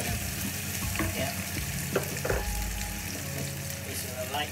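Chopped onion frying in a pan for a simple anchovy and plum tomato spaghetti, a steady close crackling sizzle with a few stirring scrapes and clinks throughout.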